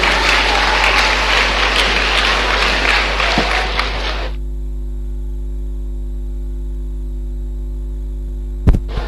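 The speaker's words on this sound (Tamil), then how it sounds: "அவருக்கு மிகுந்த கரவொலி எழுப்பி வரவேற்பு கொடுக்குமாறு கேட்டுக்கொள்கிறேன்" Audience applause welcoming a guest at a children's science congress, dense clapping from a large hall for about four seconds, then it cuts out, leaving a steady electrical hum.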